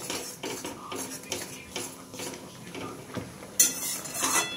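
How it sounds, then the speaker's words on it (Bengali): A spoon scrapes and clinks against a pan as pineapple chutney is stirred, its pineapple cooking in its own juice. Repeated close, moderate metallic scrapes come at an uneven rhythm, ending in a brighter clatter. "ভালো করে নেড়ে চেড়ে নিচ্ছি।"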